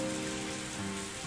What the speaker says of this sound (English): Freezing and battered by the rain